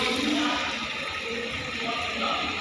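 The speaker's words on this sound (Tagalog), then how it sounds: "Lalagyan natin ng tubig." Water poured into a dental autoclave before sterilizing instruments: a steady, close splashing pour that runs throughout, with faint background voices.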